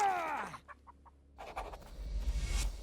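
A chicken in the medieval village-builder game Nested Lands gives a few short, soft clucks after a brief squawk, followed by low rumbling game background.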